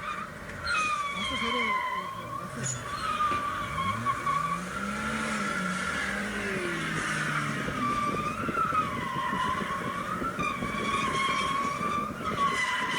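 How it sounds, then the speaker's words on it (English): A BMW and a Golf drift on a road, tires squealing in long rising and falling wails over revving engines, with a voice talking over it. "Turkish drifting, huh?"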